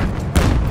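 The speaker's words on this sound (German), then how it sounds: "Granate raus!" A grenade blast in the First World War shooter Battlefield 1 lands as one heavy, close boom with a deep low rumble, erupting suddenly over dense battle noise.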